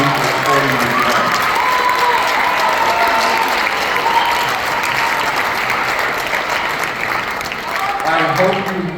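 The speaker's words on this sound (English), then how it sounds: "Students, give a round of applause to your parents for being here tonight and our community for supporting you tonight." An audience at a school honors band concert claps loudly and continuously for about nine seconds, with some scattered cheers mixed in and a voice faintly audible near the end.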